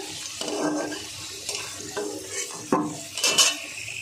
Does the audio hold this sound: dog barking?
no